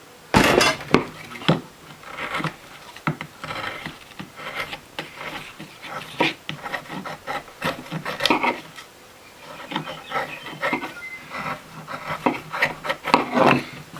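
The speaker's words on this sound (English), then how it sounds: "Good draw knife this." A draw knife shaves wood in repeated scraping, rasping strokes at an uneven pace, each pull giving a short dry rustle close to the listener with brief pauses between cuts.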